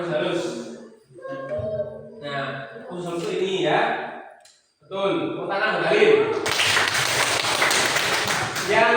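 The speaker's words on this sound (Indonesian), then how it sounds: "Tepuk tangan Halim." A teacher's voice in a primary classroom gives way to a burst of dense applause from the class that lasts several seconds for a pupil's correct answer.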